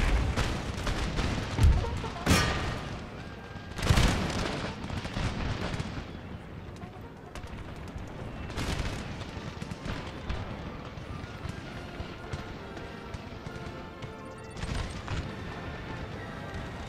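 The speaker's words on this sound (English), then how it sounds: "There's the canister shot." Canister shot cannon fire in Empire: Total War battle: several heavy booming blasts spaced a few seconds apart over a continuous rumble of distant musketry and battle noise.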